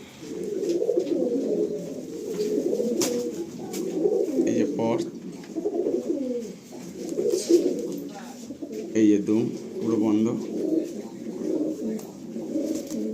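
Pure-line pigeons in a loft coo in repeated low, throaty rolls, close and fairly loud, while someone talks over them throughout.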